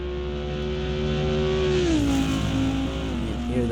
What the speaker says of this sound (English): hear that Leger JSP 320 sing on the backstretch